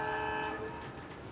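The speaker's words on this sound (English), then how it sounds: "every time we hear the horn, salute" A long steady train horn blares with layered tones, sustained and loud before easing slightly toward the end, with no talking over it.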